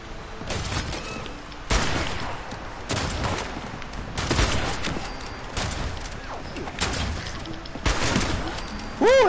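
Bursts of gunfire from new guns in the video game Fallout 76 crack out in uneven volleys, several sharp loud shots and short rapid strings spread across the clip.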